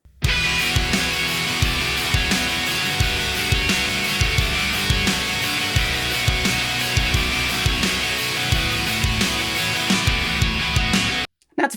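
An electric guitar lead sound layered over a full rock mix, with thumping drums and dense distorted guitars, loud and continuous throughout before stopping suddenly near the end.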